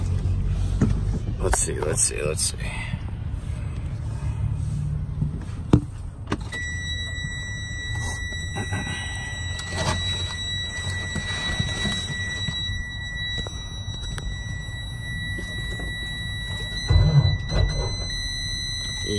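Freightliner truck engine cranked on a cold morning after sitting all weekend, with a low rumbling drone, a few sharp clicks and a thump, then steady whining tones and a brief swell near the end; a voice speaks briefly.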